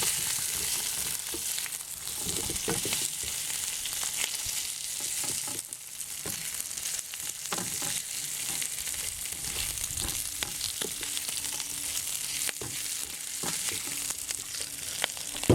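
Garlic and black beans frying in a pan, with a continuous crackling sizzle and scattered pops and scrapes of stirring, close and steady throughout, with no talking.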